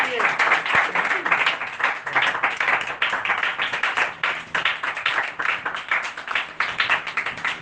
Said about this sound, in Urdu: یسوع مسیح کی دادی پردادی کے لیے ایک بار زوردار تالیاں